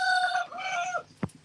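A rooster crows loudly and close by in one long, harmonic call lasting about a second, followed by a brief sharp burst.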